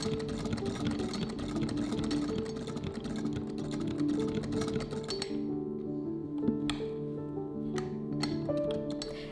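A sewing machine stitches together jacket seams, its steady mechanical hum running continuously at moderate loudness with a faint clinking rhythm, then thinning to a lighter whir with occasional clicks.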